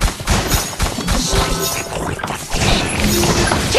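Dense, continuous crashing and shattering bursts from a multiplayer shooter round with planted bombs, loud and chaotic throughout with overlapping impacts and gunfire-like fusillades.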